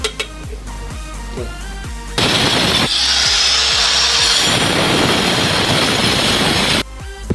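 A power tool drills into a hard floor to reach a leaking underground water pipe, a loud, sustained grinding roar after some lighter tapping, then stops abruptly.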